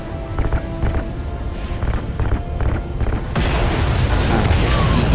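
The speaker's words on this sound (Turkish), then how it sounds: "Ha, iyice patladı." A heavy explosion rumbles in the first-person shooter Call of Duty: Ghosts, with deep booms and a swelling roar of debris and wind that grows louder and sustains toward the end.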